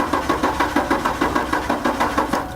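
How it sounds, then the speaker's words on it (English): A car engine cranks over in a no-start diagnosis check, a steady rhythmic chugging of about five beats per second, close and loud with no voices. "we'll simply get in our car and start the engine"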